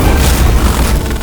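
A gunshot fired at a wife in a CID Hindi TV serial scene, a loud, heavy boom with a rumbling low-end tail that fills the whole moment and fades only slightly.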